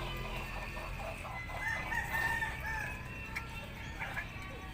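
A hen clucks and calls at a moderate distance, with a few rising, drawn-out notes against steady outdoor background noise.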